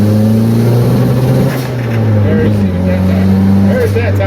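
Inside an abandoned turbocharged drift car, the engine drones steadily at low pitch as it drives, with small uneven stumbles in the note from a misfire, heard from the cabin under continuous talk.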